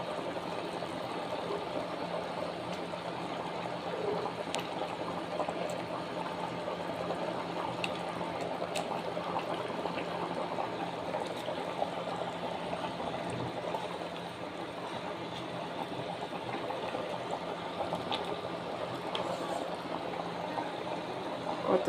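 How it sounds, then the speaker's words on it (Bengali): Fish curry broth at a steady rolling boil in a pot, a continuous dense bubbling and seething hiss that stays even and close throughout, with no talking. "ভালোভাবে ফুটে উঠেছে।"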